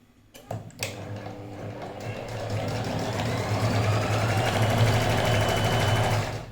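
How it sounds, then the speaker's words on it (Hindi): A sewing machine stitches a cut neckline onto buckram, starting with a few clicks and then running steadily in a close, continuous whirring hum with no talk. "जब भी आप इस तरह से कट वाली नेक लाइन बनाते हैं तो कोशिश किया करें कि आप ज़रा सा बुकरम के ऊपर ही सिलाई लगाया करें"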